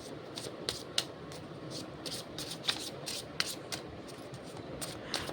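Tarot cards being shuffled by hand, a steady run of soft riffling flicks with sharper snaps every second or so, close and moderately quiet, with no voices.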